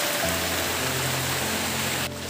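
Heavy monsoon rain pours steadily over a village pond in Bengal during the rainy season, a dense continuous hiss close by, with a low steady hum beneath it and no talking.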